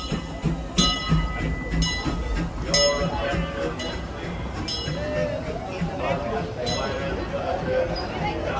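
Disneyland's E.P. Ripley train rolls past close by with steady rumbling, clicking wheels and metallic clinks and squeals, while people talk over it.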